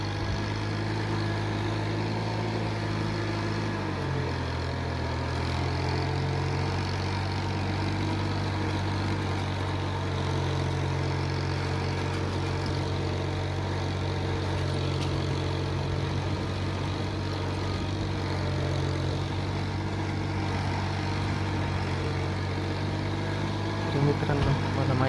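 A Mitsubishi tractor engine idles and runs steadily in a farm field, a continuous low rumble with a slight shift in pitch after a few seconds.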